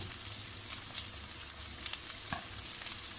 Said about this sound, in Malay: kita tumis mushroom kita bagi layu tak?